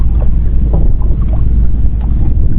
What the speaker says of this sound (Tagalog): Yung parating ng bangka.